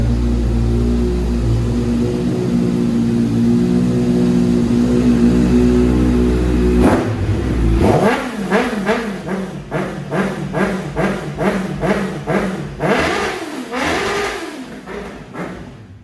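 Honda CBR650F motorcycle, 2017 LED model, idling steadily, then blipped repeatedly up to the rev limiter in a quick series of sharp, loud revs with bouncing cut-off stutters.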